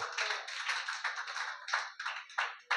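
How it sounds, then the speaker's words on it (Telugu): A church congregation claps loudly in Kakinada, a steady run of clustered hand claps with uneven rhythm that grows choppier toward the end, heard on its own without talk. "గట్టిగా చప్పట్లు కూడా దేవుని నామాన్ని మహిమపరుద్దాం"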